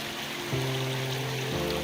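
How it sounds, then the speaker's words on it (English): Stream water bubbles over rocks in a steady, close rushing wash, with a low, even hum joining it partway through. "I love the sound of the water. This, when it's bubbling over rocks and stuff, it's just lovely."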